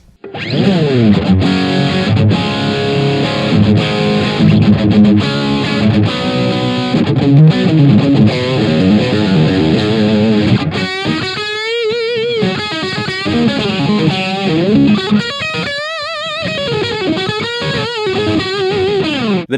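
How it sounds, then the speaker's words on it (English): Electric guitar through the high-gain distortion section of a Gokko AXE MX300 multi-effects unit, loud saturated chords giving way to single-note lead lines with sustained bends, playing steadily throughout without any voice. "Now let's check out the distortion next."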